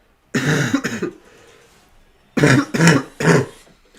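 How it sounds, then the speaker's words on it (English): Two quick coughs, a pause, then three more harsh coughs in close succession, near and loud against silence. "Sorry for the cough, guys. I can't control it."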